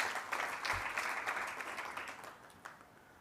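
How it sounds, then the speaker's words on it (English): Applause from a conference audience, a soft, fairly distant patter of many hands clapping that peaks early, then thins and fades over a few seconds, with a few scattered claps left at the end. "A big round of applause."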